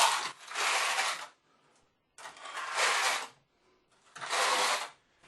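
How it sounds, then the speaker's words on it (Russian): A trowel spreads a thin skim of tile adhesive across a wall for porcelain stoneware window reveals, heard as three separate broadband scraping strokes, each roughly a second long, close and moderately loud, with brief quiet gaps between them. "Для лучшей адгезии плиточного клея к стене я наношу тоненький слой плиточного клея"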